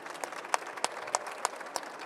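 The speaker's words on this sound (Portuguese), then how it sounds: "Palmas para ela." Sparse, fairly faint clapping from an audience at a public policy event, individual claps spaced at a steady rhythm over a couple of seconds.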